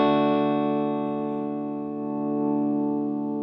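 A sustained chord on a Les Paul electric guitar through the neck pickup with the volume knob rolled back, ringing cleanly and slowly decaying over a few seconds, with no voices.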